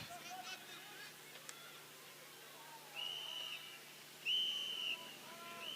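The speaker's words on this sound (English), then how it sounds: "Hear the whistles from the game advisors indicating that it's time to go." Game advisors blow whistles at an ultimate frisbee match at the 2018 world club championships, two sharp, steady whistle blasts well apart, the second louder, over faint crowd and commentary.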